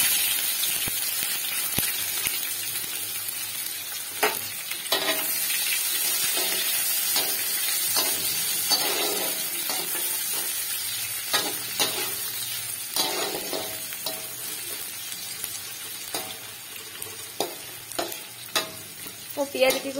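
Chopped onions fry with star anise, peppercorns and cinnamon in a pan for shrimp curry, giving a constant loud sizzle broken by repeated close spatula scrapes and knocks.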